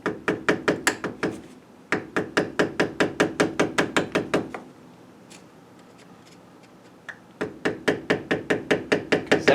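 Rapid, crisp metallic taps strike a 2007 Honda Accord spindle in quick bursts of a dozen or so hits each, with a brief pause of low background noise between the bursts.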